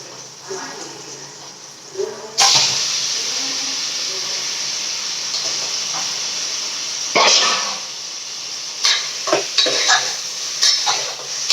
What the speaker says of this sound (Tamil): வெங்காயம் தக்காளி வதங்கி வச்சு கறி போடலாம்.